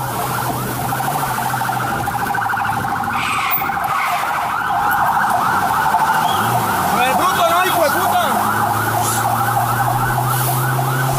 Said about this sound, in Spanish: pónganme el audio a la frenada